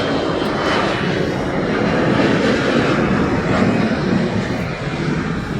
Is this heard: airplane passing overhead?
yes